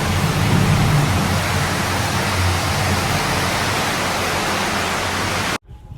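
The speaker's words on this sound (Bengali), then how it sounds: "কি পরিমাণ বৃষ্টি।" Heavy storm rain falling hard, a thick continuous roar that holds steady for over five seconds and then cuts off abruptly.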